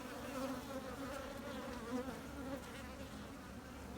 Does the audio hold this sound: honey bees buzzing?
yes